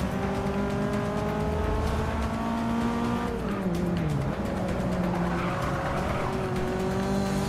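Race car in the Forza Motorsport 6 video game on Xbox One, its engine droning loud and steady, pitch sweeping down with a gear change and then climbing again under acceleration, with brief tire squeal.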